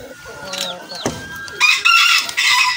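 Big fighter-breed roosters, one crowing in a short burst, with other chickens clucking and calling close by in a brief, busy stretch.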